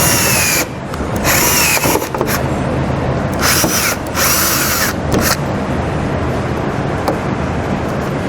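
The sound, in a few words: drilling out rivets with a 1/4-inch drill bit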